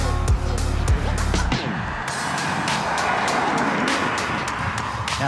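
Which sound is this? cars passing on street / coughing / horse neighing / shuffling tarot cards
cars passing on street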